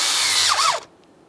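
Power tool briefly whirs as it snugs bolts into plastic during a combination switch replacement on a 2015-2020 Ford F-150, a short close burst that pitches down and stops abruptly.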